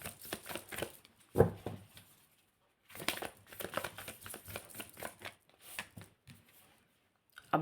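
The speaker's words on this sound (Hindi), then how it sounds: "my last shuffle" Tarot cards shuffled by hand in several bursts of quick, crisp riffling and sliding flutters, close and fairly quiet, with short pauses and a sharper snap between bursts.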